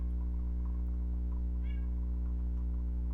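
A pet cat gives a single short, faint meow in the background of a quiet room, over a steady low hum, with no talk.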